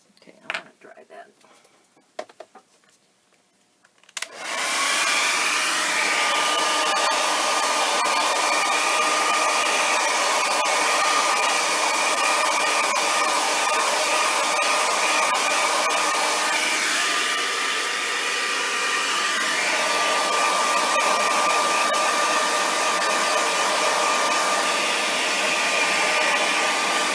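A hair dryer blows steadily and loudly at close range after a few seconds of quiet handling noises, drying alcohol ink on a ceramic tile, its whine holding a constant pitch with a slight dip midway.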